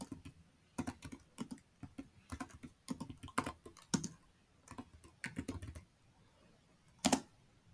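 Quick bursts of keystrokes on a computer keyboard as commands are entered at a root shell, irregular clusters of clicky taps with short pauses, one sharper isolated strike near the end, close and clear with no voices.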